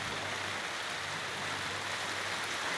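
Steady rain patters on a plastic roof sheeting overhead, a dense, even hiss of drops that holds unchanged throughout with no voices.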